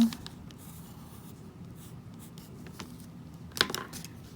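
A regular grey pencil scratches steadily across paper in soft, continuous strokes, heard up close with a brief sharper scrape near the end.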